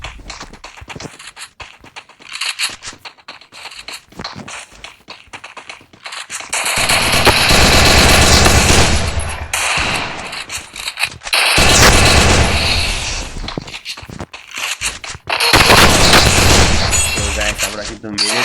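Bursts of automatic gunfire from a shooting video game, loud rapid rattling volleys in several long stretches separated by quieter gaps, with a voice talking over parts of it.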